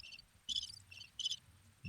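Cricket chirping plays as a sound effect in short, high, pulsing bursts that repeat steadily at a quiet level, alone with no speech.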